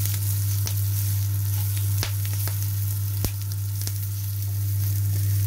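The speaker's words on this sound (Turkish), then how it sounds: "Ocağı aldığımda sucuklarımı önce bu şekilde kızarttım arkadaşlar." Sucuk sausage frying in a pan without oil on a stovetop gives a steady, continuous sizzle over a low hum, with occasional sharp pops and crackles and no talking.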